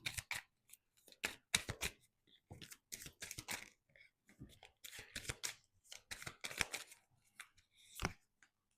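Tarot cards being shuffled, crisp irregular riffles and flicks close up, broken by short pauses.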